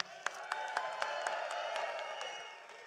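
A large outdoor crowd at an Alberta sovereignty rally claps and cheers, a steady wash of applause with a few sharper claps standing out, heard at a distance and fairly faint.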